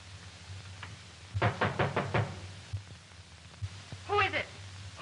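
A quick burst of four or five sharp knocks on a door, then a few scattered taps and a muffled voice, in a 1934 film scene.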